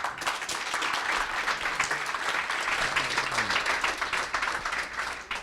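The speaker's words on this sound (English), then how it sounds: "So let's first give him a round of applause." An audience claps after a presentation. Steady, full applause fills the room without a break, loud and close for the whole stretch.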